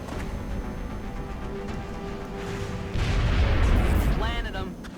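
Rapid-fire weapon shots in the video game XCOM Enemy Within, a loud cluster of heavy booming blasts in the latter half, preceded by game ambience and faint talk.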